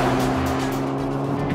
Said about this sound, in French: Le moteur monte allègrement dans les tours